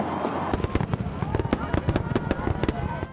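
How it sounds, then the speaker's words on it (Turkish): Fireworks at New Year celebrations crackle and bang in quick, sharp bursts over a steady crowd murmur, with many close pops scattered irregularly across a few seconds. "Görkemli havai fişek gösterileri ilgiyle izlendi."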